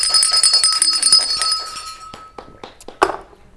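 Small bells jingle and shimmer close by with a bright ring that fades out, followed by a few light clinks and taps.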